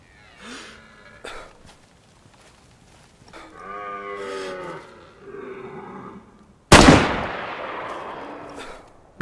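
Single loud gunshot fired while hunting an animal in the video game DayZ Frostline, a sharp sudden crack with a decaying tail, after softer animal-like calls and rustling.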